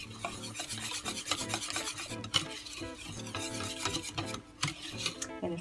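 Vegan crepe batter is stirred in a bowl with a utensil, a busy rasping, scraping rhythm of strokes against the bowl, close and fairly loud, with no voices.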